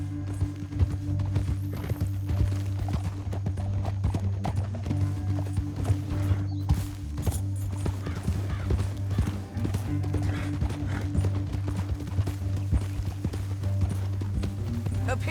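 Horses gallop in the Red Dead Redemption 2 video game, a steady run of close hoofbeats that continues for the whole stretch over a sustained low drone, with no voices.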